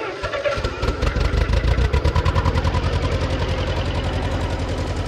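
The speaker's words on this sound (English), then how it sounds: "It does need a little bit of a carburetor adjustment, but there's its idle speed." A Massey Ferguson MF35 tractor engine idles close by, a steady, rapid chugging pulse that holds evenly throughout with a slight carburetor unevenness.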